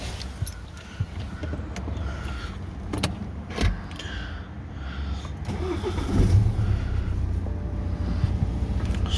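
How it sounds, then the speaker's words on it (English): A BMW E8X 1 Series is started from inside the cabin: faint clicks and key sounds come first, then the starter cranks and the engine catches into a low, steady idle that swells slightly, all fairly quiet and close. "When you start the car"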